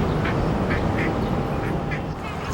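Ducks being fed at Jamaica Pond quack repeatedly at close range over a constant outdoor rumble, short nasal calls scattered every half second or so.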